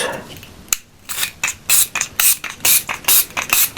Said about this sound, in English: I'll spray them a little actually, so that they will hold.